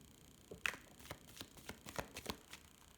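Tarot cards being shuffled by hand, faint papery flicks and riffles in a quiet, irregular series of short snaps and crinkles close by.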